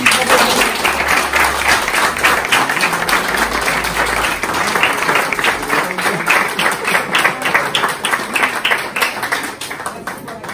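Audience applause at an awards ceremony for carnival groups, a steady dense clapping that fills the whole stretch at close range, with some voices mixed in.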